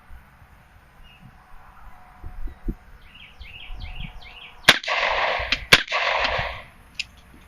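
Two sharp, loud gunshots about a second apart crack out on an outdoor range firing at a beehive barrier, after quiet ambience with faint bird calls, each followed by a brief noisy wash.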